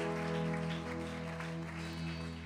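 A church congregation applauding during a worship service, a dense sustained clapping mixed with a sustained musical tone from an instrument.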